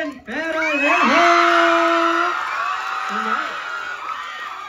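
An audience at a live fan event shrieks and cheers for a guest on stage, many high, overlapping voices whooping and screaming loudly for several seconds before the noise eases slightly.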